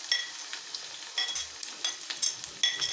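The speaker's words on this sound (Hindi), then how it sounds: "तेल हमारा अच्छा गर्म हो गया है। अब इसमें हम ये भिंडी डाल देंगे कटी हुई।" Chopped okra fries in hot oil, giving a close, bright sizzle broken by short crackling bursts and stirring scrapes, with no talking.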